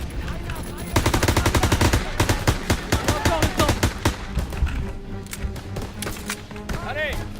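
Rapid bursts of automatic gunfire from a World War II firefight in Call of Duty WWII, loud and dense machine-gun rattles with scattered single shots, mixed with game voices and effects.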